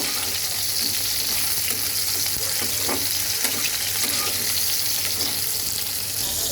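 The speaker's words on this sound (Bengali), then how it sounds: "খুব বেশি ভাজবো না হালকা ভাজবো" Salted pointed gourd (potol) pieces fry lightly in an oiled pan with occasional stirring. A close, continuous sizzle runs at an even level throughout, with faint scrapes from the stirring and no voices.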